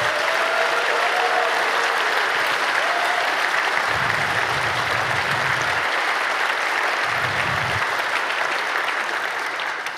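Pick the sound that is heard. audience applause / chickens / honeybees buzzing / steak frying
audience applause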